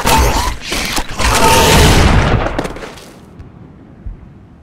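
Heavy, booming gunfire in the video game Serious Sam 4, a dense loud volley of blasts for about three seconds that cuts off into quiet rumble with one last thump.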